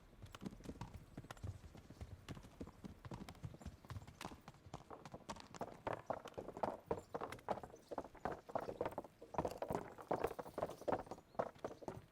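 Hooves of a horse clip-clopping in the medieval video game Kingdom Come: Deliverance, a steady quick rhythm of distinct strikes lasting throughout, fairly quiet, with a faint snort or whinny among them.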